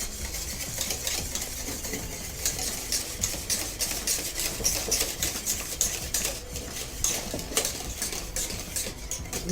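Béchamel with crab filling being stirred in a pot for Basque txangurro, giving a continuous close scraping and clinking of a utensil against the pot, steady and fairly loud throughout.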